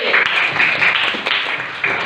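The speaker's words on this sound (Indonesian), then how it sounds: "Tepuk tangan lagi buat Epi." Renewed classroom applause for a student named Epi: many hands clapping in a continuous, fairly loud patter lasting around two seconds, with occasional stronger claps.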